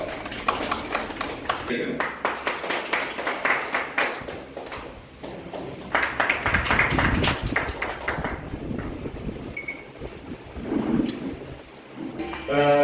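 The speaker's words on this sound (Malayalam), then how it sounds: "നല്ല കയ്യടി കൊടുക്കട്ടോ" Audience clapping at a ceremony honouring farmers, where an agricultural tool is presented; broad, steady applause fills the whole stretch, mixed with a speaking voice and crowd noise.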